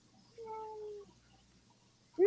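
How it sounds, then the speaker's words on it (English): A house cat gives a single drawn-out, nasal meow that lasts about half a second in a quiet room, with a second cry just beginning at the very end. "Did your cat just say no?"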